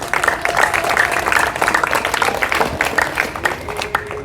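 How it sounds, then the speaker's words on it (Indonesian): A church congregation claps for Jesus in loud, sustained applause with a lively, uneven rhythm and some crowd voices mixed into the clapping. "Berikan tepuk tangan buat Yesus."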